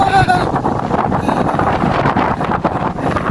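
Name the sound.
strong wind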